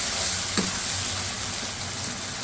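Chickpea curry masala frying in a pot, a steady loud sizzle filling the whole stretch with one brief knock of a spoon, close and uninterrupted.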